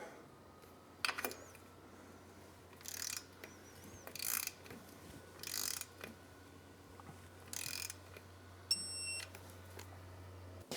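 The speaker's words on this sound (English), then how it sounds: "With our 10mm socket, tighten the clamp up." Ratchet wrench with a 10mm socket tightening a brake line clamp on a motorcycle, heard as several short separate bursts of clicking with quiet gaps and a faint beeping near the end.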